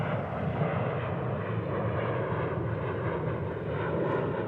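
A jet airliner departing DFW International Airport gives a close, loud, sustained engine roar with a deep rumbling base that stays even from start to finish, with no speech.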